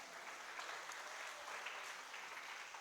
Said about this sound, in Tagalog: Pumalakpak nga po yung mga excited sa umaga pong ito